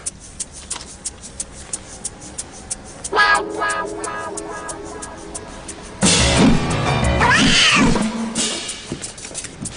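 A cat meows in a children's TV comedy, a drawn-out wavering cry rising over a quiet background with regular ticking, followed by a louder, harsher yowl amid other noise.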